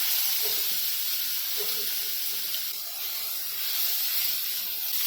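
Finely chopped onion frying in hot oil with a pinch of asafoetida, giving a steady, close sizzling hiss that dips slightly midway and continues alone.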